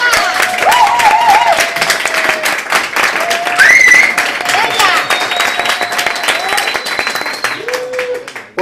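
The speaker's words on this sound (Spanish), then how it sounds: "Un fuerte aplauso," An audience at a poetry book presentation in Valencia claps loudly for the poet Marta R. Sobrecueva, a dense burst of applause with whistles and cheers over it.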